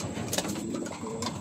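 Racing pigeons coo softly in a loft, with low rolling calls overlapping against a faint hiss of background noise and no talking.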